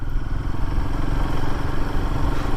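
A Royal Enfield Himalayan 450 engine labours at very low road speed in a high gear, producing a loud, steady, rough, lumpy thrum with a chugging pulse throughout.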